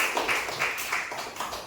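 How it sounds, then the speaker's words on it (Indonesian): Classmates in an eighth-grade science class clap for a student group after its presentation, a brief, fairly quiet patter of hands with no voices over it. "Beri tepuk tangan untuk kelompok visual 2"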